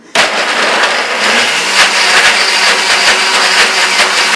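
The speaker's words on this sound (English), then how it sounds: "So let me just blend this up here real quick." A blender purees ingredients at full power, a loud, dense, continuous whirring roar that starts abruptly and holds steady to the end, with no talking.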